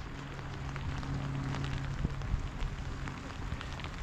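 Rain falls steadily during a speckled trout fishing trip on the water, making a dense, even hiss of drops with scattered louder patters and no voices.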